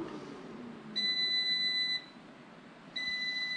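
A kitchen air fryer beeps: two long, moderately loud electronic tones about a second apart, the second cut short, over a quiet room with no talk.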